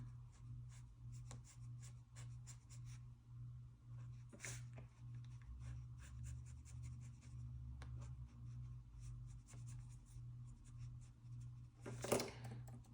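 A pen draws red ink across planner paper with quiet scratching strokes in short bursts, close and faint over a low steady hum, with a louder rustle near the end.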